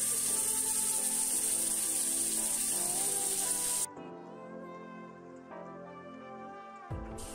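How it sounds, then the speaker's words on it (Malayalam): Chicken fries in hot oil with a bright, steady hiss and fine crackle for a few seconds, then the sizzle cuts off abruptly, leaving a quiet background with faint knocks. "എണ്ണ ചൂടായിട്ടുണ്ട്, നമുക്ക് ചിക്കൻ ഫ്രൈ ചെയ്തെടുക്കാം"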